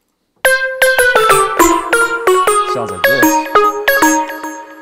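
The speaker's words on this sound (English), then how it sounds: "I've got this Europa bottle pluck." Bright plucked synth notes from the Europa bottle pluck preset in Reason, playing a quick melodic run of bell-like tones with ringing harmonics. A brief spoken phrase comes right before the notes.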